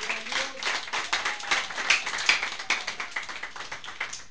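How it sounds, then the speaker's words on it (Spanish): A church congregation claps hands in unison in praise, a brisk rhythmic beat of sharp, close claps, roughly three per second, steady over several seconds with no talking. "Denme una fuerte ofrenda de palmas al Señor."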